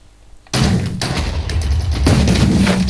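A sudden loud blast from an explosion in a Minecraft Battlefield 3 mod game bursts out of near silence, followed by rumbling debris and a second impact.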